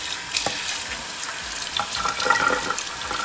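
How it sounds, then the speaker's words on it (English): Cold tap water runs while small pork pieces are rinsed in a kitchen sink, a steady splashing hiss with irregular spatters as the meat is handled under the stream. "I don't care if you have to let the water run for a bit until the water gets nice and cold"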